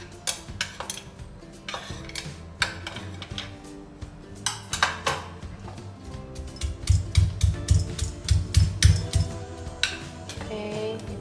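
Coriander leaves and garlic pounded in a mortar for Thai-style grilled chicken: a steady run of dull, close thumps with clinking knocks, growing heavier and more rhythmic toward the end.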